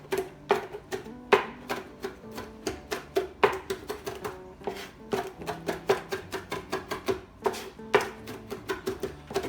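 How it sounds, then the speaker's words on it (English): A kitchen knife chops rapidly on a cutting board, mincing food finely for meatballs, a dense irregular run of sharp close taps in quick bursts with brief pauses, with no talk. "And cut it up a little bit more."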